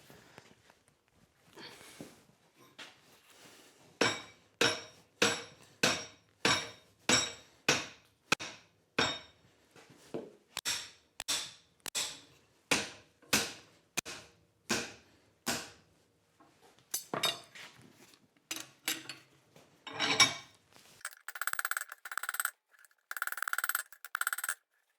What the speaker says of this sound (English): I want to bend this tail just so it clears the anvil a little bit better.